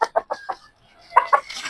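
A three-month-old fighting rooster, a backyard-bred gamecock, lets out a quick run of close, clipped clucks, pauses briefly, then clucks twice more with a short trailing call.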